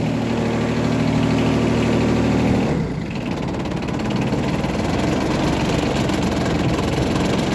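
A Yanmar Ke-3 mini tractor engine idles right after starting, without extra hand throttle, giving a loud, steady diesel chug with a rough clatter that shifts in tone partway through as it settles.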